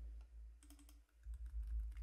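Fingers type code on a computer keyboard in quick, close clicking bursts with a short pause midway, no talking.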